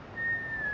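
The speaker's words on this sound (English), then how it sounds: "We exhale through rounded lips. You can whistle a little if you like." A single soft whistled note, breathed out through rounded lips during a yoga breathing exercise, holds one steady, slightly falling pitch on a quiet exhale, alone with no talk.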